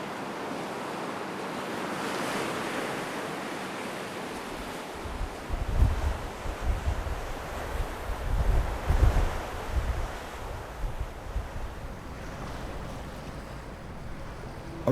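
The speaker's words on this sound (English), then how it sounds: "admire these cliffs of red sandstone lashed by the waves of the" Atlantic waves break against red sandstone cliffs on the Magdalen Islands. After a quieter, windy opening, the low surges rise and fall, loud and close, with wind noise on the microphone throughout.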